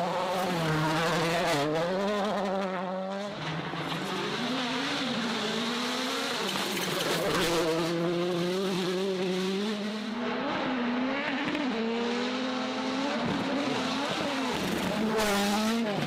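Rally race cars roar past through mud, engines wailing and rising and falling in pitch through repeated gear changes and hard acceleration, loud and sustained over several passes.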